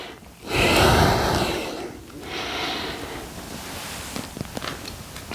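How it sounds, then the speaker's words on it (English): Heavy, loud breaths from a person doing a golf exercise, a big forceful exhale up front followed by steadier, softer breathing with a few small sharp sounds near the end. "And I'm breathing."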